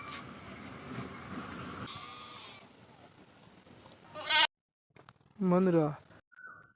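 Goats and sheep on a farm, fed chopped Napier grass, give a couple of loud, close bleats in quick succession after a stretch of low background noise, then fall quiet.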